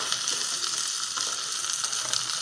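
Sliced small unpeeled potatoes fry in oil with a continuous bright, hissing sizzle, occasional faint scrapes of stirring mixed in, steady and close throughout.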